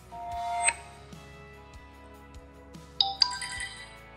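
Samsung Galaxy S23 notification sound previews: a few short bright chimes and tones from the phone speaker, separated by soft taps, fairly quiet and with no talking.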